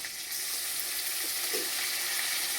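Ginger-garlic paste frying in a pan of hot oil while cooking lau chingri (bottle gourd with prawns), a steady broadband sizzle throughout with a couple of faint clinks partway through, no talking.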